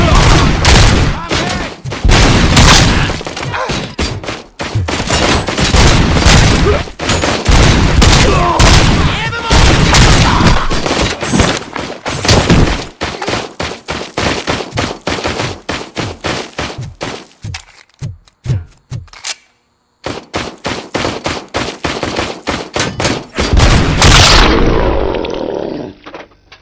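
Heavy gunfire and explosions fill a RoboCop: Rogue City firefight, with dense rapid bursts, booms and shattering hits that continue almost nonstop, loud and close, briefly pausing before resuming, with occasional shouted game voices mixed in.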